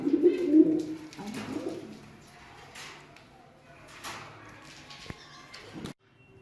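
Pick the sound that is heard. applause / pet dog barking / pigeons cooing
pigeons cooing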